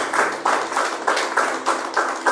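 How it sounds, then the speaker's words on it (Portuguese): A congregation in a church claps in a steady rhythmic beat, about four claps per second, close and fairly loud throughout. "Palmas para ele novamente"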